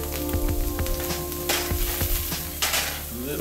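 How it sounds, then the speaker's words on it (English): Loud, steady sizzling and crackling of chicken and shallots frying in a hot pan, with occasional utensil scrapes and stirring sounds. "I got it sizzling, popping."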